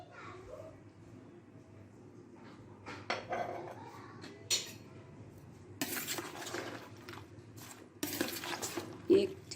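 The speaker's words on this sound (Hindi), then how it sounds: "एक चम्मच के साथ इनको आराम से मिक्स करना है आपने" A spoon gently mixes fruit chaat with dates and a spiced juice in a bowl, giving soft scraping stirs and scattered light clinks against the dish, close up and fairly quiet.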